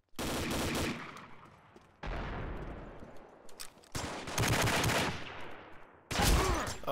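Video-game gunfire comes in four loud, rapid bursts of automatic fire, each lasting a second or two and separated by brief quieter gaps.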